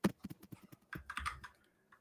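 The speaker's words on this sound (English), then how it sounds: "Keep typing." Fingers tap out an irregular burst of keystrokes on a computer keyboard, close and fairly quiet, with a short pause partway through before a few last clicks.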